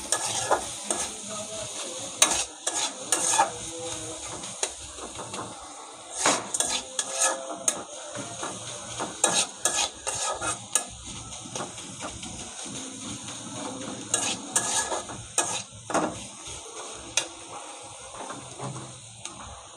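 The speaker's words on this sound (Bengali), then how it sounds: "ভালো করে কষিয়ে নেব। আর একটু তেল দিয়ে দেবো।" Fish and taro sauté in hot oil, a continuous sizzle broken by frequent sharp scrapes and clinks of a metal spatula against the pan as the mix is stirred, close and fairly loud with no talking.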